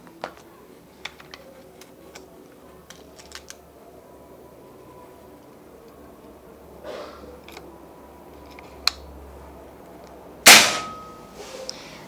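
A Predator OD38 PCP air rifle fires a single sharp, loud crack near the end, following a long stretch of quiet punctuated by faint ticks and small clicks.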